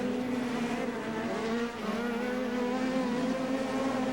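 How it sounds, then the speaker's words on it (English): TORC off-road race trucks screaming past at a 2009 race, a sustained high-pitched engine wail with steady tonal harmonics, distant and fairly faint, with a brief dip midway. "You hear these engines scream."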